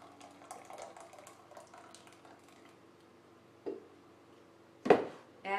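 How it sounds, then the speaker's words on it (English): Blended raw pea soup with mint is poured into a bowl, giving soft liquid pouring and sloshing followed by two distinct knocks of the container against the bowl, close and fairly quiet. "So we're just gonna pour it in this bowl."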